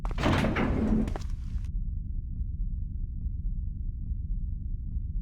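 A door opens with a short burst of noisy sound in the Die Hard: Vendetta video game, then cuts off abruptly into a low, steady background hum.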